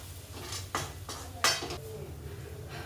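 A spoon scrapes and clinks against a pan as mutter paneer masala with a spice mix is stirred, giving a few distinct close knocks over a quiet low sizzle.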